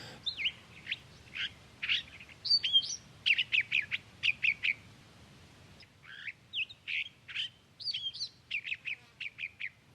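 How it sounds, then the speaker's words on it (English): California thrasher singing in chaparral, a varied run of chirps, squawky phrases and repeated notes delivered in bursts with a brief pause midway, clear and fairly close over a quiet background. "A really nice bird in this area is California thrasher that has a beautiful song."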